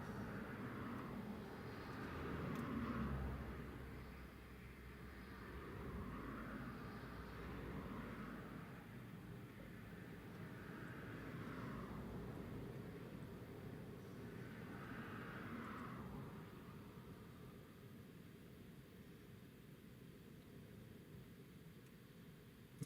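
A fixed-wing aircraft takes off at Newcastle Airport in a crosswind, its engines a steady distant broadband roar that swells and fades over about twenty seconds with no talk.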